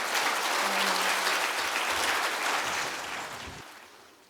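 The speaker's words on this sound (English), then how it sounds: "Clap again." Audience applause at a Compassionate Prisons talk, broad steady clapping from a full crowd that holds for about three seconds and then fades out.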